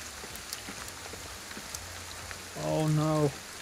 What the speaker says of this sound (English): And now it's starting to rain.